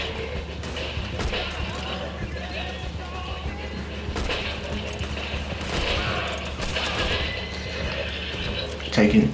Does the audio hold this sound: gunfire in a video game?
yes